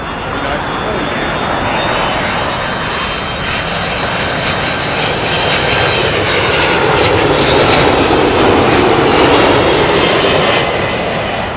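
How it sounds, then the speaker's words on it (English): A United Airlines Boeing 767 jet roars past, loud and steady broadband engine noise swelling toward the end, with a voice faintly present. "It's the Boeing 767. Should be nice and noisy."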